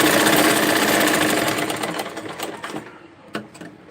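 A sewing machine stitches a plain blouse, running as a loud, continuous buzz for about three seconds before it slows and stops, leaving a few soft mechanical clicks.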